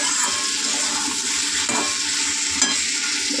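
Food being sautéed in a pan keeps up a loud, steady hiss of frying, with a few spatula scrapes as it is stirred.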